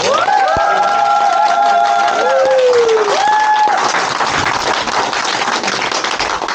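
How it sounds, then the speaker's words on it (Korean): Party members at a political gathering in Suncheon break into welcoming applause. The clapping is dense, loud and steady, and a voice is heard briefly at the start. "같이 환영의 박수로."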